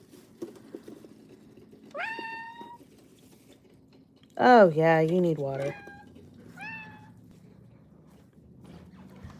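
Pet cats meow indoors near a running pump: a short rising meow, then a long, loud, wavering call, and a third brief meow, with someone speaking softly in between.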